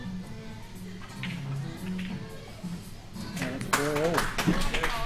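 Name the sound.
clapping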